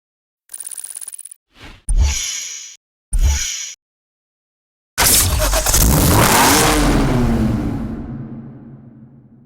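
A BMW M6 convertible with a titanium exhaust in the Need for Speed Hot Pursuit racing game gives a few short menu chimes and blips, then its engine starts and revs loudly, sweeping upward before slowly fading.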